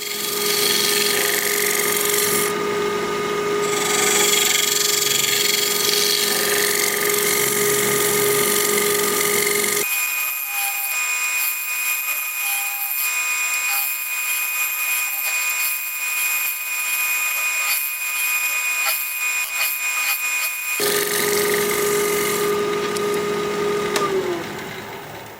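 A lathe whirs steadily while a scraping tool bites into spinning wood, producing a continuous harsh, high-pitched shaving sound that stays close and loud throughout.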